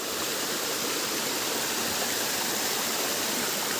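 Salugsog Falls in Mindoro roars as a continuous, dense rush of falling water, loud and close, with no voices over it.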